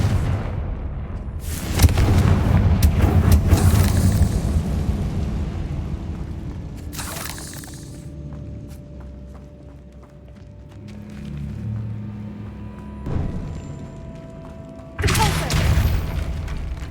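Confringo fire spells in Hogwarts Legacy burst in a spider-infested catacomb, several deep booming blasts with rumbling debris spaced through the stretch, the loudest at the start and two more sharp hits near the end.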